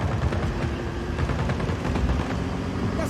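Gunfire in the video game Just Cause 4 crackles in rapid bursts amid explosive rumble, dense and loud with no gaps, like a heavy firefight.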